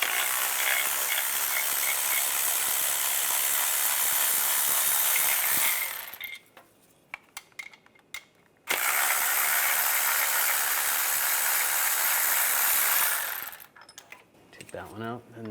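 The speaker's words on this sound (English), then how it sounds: "these lower two bolts, take these out. Same 15mm socket." Ratchet driving a 15mm socket to remove lower bolts on a 2010-2016 Cadillac SRX, rapid loud clicking in two long runs separated by a short pause, close up and with no voices.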